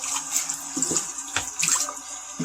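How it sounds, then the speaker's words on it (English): Water runs over a plastic hamster cage item being rinsed clean under a tap, a steady close splashing stream with brief shifts in flow as the piece is turned, no voices. "rinse it off, make sure there's no pee or number 2 on it or in it."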